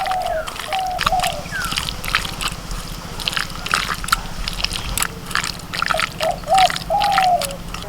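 Chicken is mixed by hand with a cracked egg and ground cumin marinade, giving close, wet squelching and slapping in an uneven rhythm throughout.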